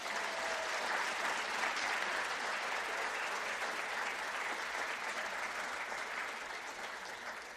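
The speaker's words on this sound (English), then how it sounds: "Let's have a round of applause for Terah Brown Jeter." An audience at a university Hall of Honor ceremony applauds an honoree, a steady, full round of clapping that holds loud for several seconds and begins to taper near the end.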